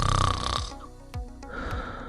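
A person snoring during sleep: a close, rasping snore that fades, then softer rattling breaths follow, with no talking.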